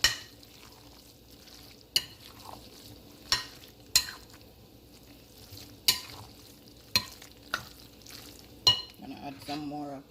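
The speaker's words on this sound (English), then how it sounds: "Just mixing it together." An oxtail mixture is stirred in a pot for a Jamaican-style Sunday dinner, with soft scraping and sizzling broken by sharp clinks of a utensil against the pot every second or two.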